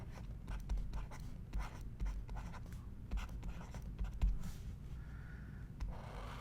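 A pen or marker drawing a large diagram of a cis Golgi on a board or paper, soft repeated scratchy strokes at close range and fairly quiet, with faint room noise behind.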